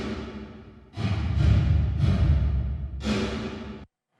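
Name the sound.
AMS drum reverb on drum mix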